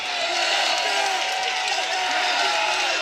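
College wrestling crowd cheering loudly for a Virginia Tech wrestler after a decision win, a broad sustained roar of voices filling the arena.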